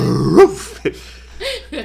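A person's voice imitates a dog barking and growling, with a few short gruff barks and a rough growl in quick succession, close and loud.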